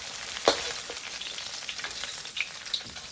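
Beef fries in hot oil, cooked in small batches for chili crispy beef, with a continuous bright sizzle broken by a few sharp pops and spatters, close up and with no voices.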